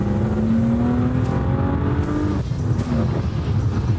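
A six-cylinder car engine revs loudly and up close, its tone climbing steadily before dropping off sharply, then picking up again in a rough idle.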